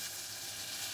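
Butter melts with flour in a pan, giving a steady, quiet, bright sizzle with no breaks.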